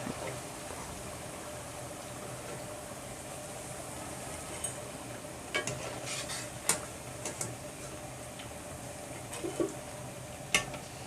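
Bondas made from idli batter deep frying in hot oil, a low continuous bubbling fry with scattered clinks of a metal utensil and pan, no talk.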